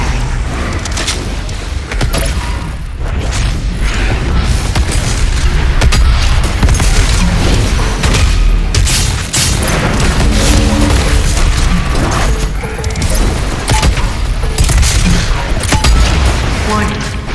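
The BFG 10,000 firing in Doom Eternal, a loud, continuous barrage of booming blasts and rumbling mechanical energy for the whole stretch, with a game voice announcing a warning.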